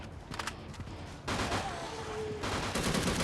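Bursts of rapid gunfire in the video game Unkilled crackle in quick succession, loud and close, with brief pauses between volleys.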